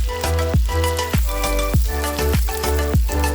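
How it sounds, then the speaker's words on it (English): Sliced onions and julienned ginger sizzle and fry in hot butter for a clams and shrimp dish, a loud, steady crackle broken by a few soft stirring scrapes, with no talk. "Followed by half of the sliced onions"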